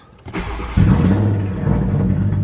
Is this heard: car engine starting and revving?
yes